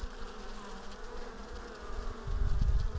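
Honeybees buzz steadily around an apiary hive, a close, continuous droning hum that swells louder toward the end, with no voices.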